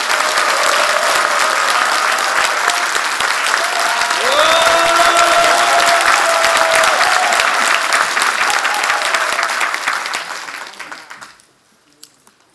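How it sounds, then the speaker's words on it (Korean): Party delegates at a provincial joint rally for party leadership candidates welcome them with loud, sustained applause and crowd noise that holds for about ten seconds, then tapers off to silence. "대의원 동지 여러분, 큰 박수로 한번 환영해 주시기 바랍니다"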